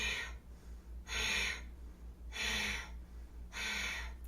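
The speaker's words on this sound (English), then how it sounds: "So Breath of Fire can be rapid, or it can be slower." Slow Breath of Fire yoga breathing: three long, forceful, hissing breaths through the nose, each about half a second, evenly spaced and close, over a low steady hum with no talking.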